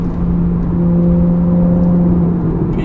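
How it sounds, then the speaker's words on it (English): Porsche 911 GTS with PDK gearbox downshifting from third to second, a loud steady engine drone with a sustained hum heard from inside the car. "It's downshifting, 3-2, it's keeping me up where I would want to be manually in order to have this car move out"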